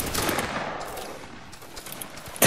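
A grenadier line fires a musket volley at reenactment training: a broad, crackling report that decays over half a second, then a quieter lull and a second sharp shot at the very end.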